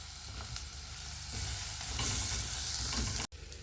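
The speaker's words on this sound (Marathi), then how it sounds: "आता ह्याला परतवते आणि ह्याच्यात सगळ्यात प्रथम मी टाकून घेणार आहे बटाटे तसंच या शेंगा" Potatoes and drumstick pods sizzle and fry in a hot pan for a clam curry, a steady, close crackling hiss that swells slightly as the pieces are stirred, ending with a brief cut.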